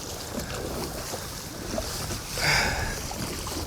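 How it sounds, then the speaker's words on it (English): Strong gusty wind buffets a small fishing boat on open water, a constant roaring rush with a swell of louder gusting and water noise partway through, no talk. "let's fight this wind all the way back"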